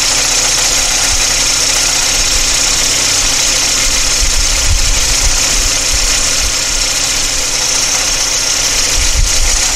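A 1987 VW Cabriolet engine running on old gas idles loudly and close, with a steady low rumble and slightly uneven knocking pulses throughout, and no one speaks.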